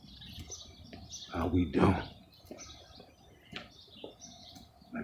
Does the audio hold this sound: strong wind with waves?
no